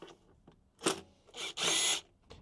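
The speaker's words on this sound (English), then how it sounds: "let's start taking some of these bolts or screws out" Bolts and screws being taken out of a golf cart battery compartment, with short, close bursts of a power driver whirring in quick spurts, the last one longer, separated by brief clicks and pauses.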